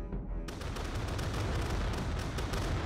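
In Totally Accurate Battle Simulator, a massed volley of gunfire erupts after a brief quiet beat, followed by a dense, continuous rattle of rifle shots and booms that stays loud throughout.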